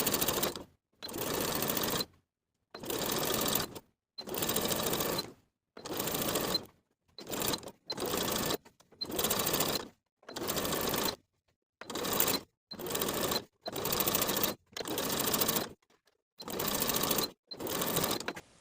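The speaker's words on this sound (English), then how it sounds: "I'm going to edge stitch along the finishing stitches to secure the facing to the bodice all the way around" A sewing machine edge stitches a satin blouse facing down to the bodice in many short bursts of rapid needle chatter, each separated by brief silent pauses as the fabric is turned, close and steady.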